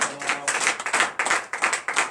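A church congregation at a morning prayer service in Benin claps in acclamation to God, a quick run of distinct, loud hand claps in an uneven rhythm, sharp and close, with a brief gap before the clapping resumes.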